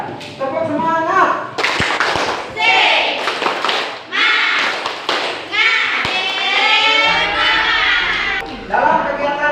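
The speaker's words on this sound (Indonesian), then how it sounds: "kita tepuk semangat dulu ya" A classroom of children does a rhythmic spirit-clapping chant, groups of loud synchronized claps and thumps alternating with the kids' shouted chanting, close and energetic.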